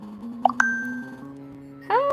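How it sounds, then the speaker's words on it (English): A phone notification chime rings out with a few quick bright pings followed by a sustained tone, then another chime near the end, over a low steady hum. "How is my phone making that sound?"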